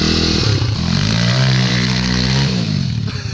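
A motorcycle engine, matching the pink of a BMW E30, revs up and holds a loud, close growl with rising and falling harmonic tones before easing off at the end.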